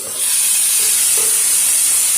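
Garlic and ginger hit a hot pan with a sudden loud hiss that settles into a dense, steady sizzle close by, with no talk over it.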